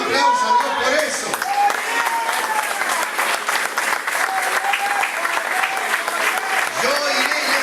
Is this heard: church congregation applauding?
yes